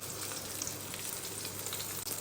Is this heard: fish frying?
yes